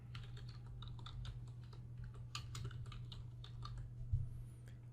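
Quiet, steady typing of a file name on a computer keyboard, a run of soft irregular key taps over a low constant hum, with no talking.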